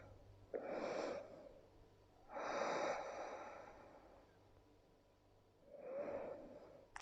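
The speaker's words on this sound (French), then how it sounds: "Prenez 3 respirations." Slow, audible breaths during a yoga exercise, three long inhale-exhale swells separated by quiet pauses, close and soft.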